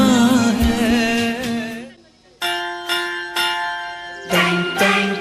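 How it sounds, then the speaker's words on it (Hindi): A school bell strikes one after another with clear, sustained, resonant tones, preceded by a voice singing over music. "सुनो घंटी बजी स्कूल की"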